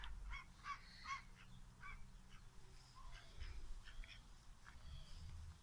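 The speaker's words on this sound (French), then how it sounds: "Les canards qui crient parce que je les ai pas encore fait sortir." Penned ducks in a permaculture garden shut in before being let out in the afternoon, honking and quacking in faint irregular bursts at a distance over soft outdoor background, with no talk.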